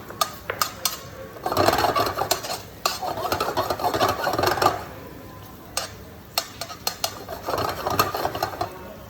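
Sliced garlic and a red chilli cook gently in oil, giving a soft, steady sizzle, with frequent sharp clicks and scrapes of a utensil stirring in the pan, close by.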